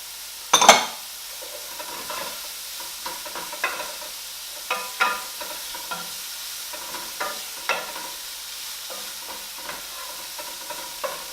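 Chillies are stirred into sizzling lamb rogan josh in a pan, with a steady fry hiss broken by a sharp clatter at the start and light, irregular scrapes and taps of the spoon.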